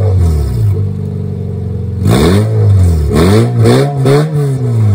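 Loud Honda car with a B-series engine revving hard through a loud exhaust, a steady idle drone followed by three sharp, rising rev bursts that fall away between each blip.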